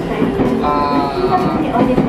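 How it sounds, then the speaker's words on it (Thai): Steady rumble of a moving train carriage with a continuous low drone and faint rattling, heard from inside, with voices murmuring in the background. "เราก็กำลังนั่งรถไฟไปนะครับ"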